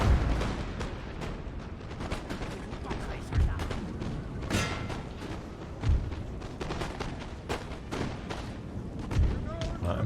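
Cannon fire in a Napoleon: Total War battle, with several heavy booming shots at irregular intervals over a dense din of gunfire and battle noise while someone talks.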